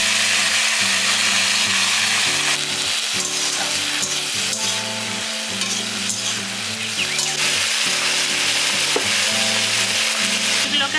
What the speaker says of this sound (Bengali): প্রথমে যে সবজিগুলো আমি কেটে রেখেছিলাম সবজিগুলো আমি দিয়ে দিচ্ছি।